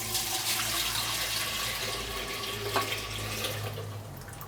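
Old alcohol tipped from a container into the pot of an Air Still Pro, a steady close pouring and splashing of liquid that tapers off slightly toward the end.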